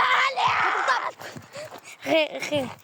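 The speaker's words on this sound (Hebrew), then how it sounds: "כן, הוא צועק עכשיו" A person screams and wails in several strained, rising bursts with short breaks between them, loud and close, mixed with some shouted vocal sounds.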